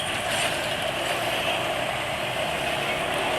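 A rough-running scooter engine on Unioil Gold oil gives a steady, coarse buzzing drone with no let-up over a few seconds, with no voices over it.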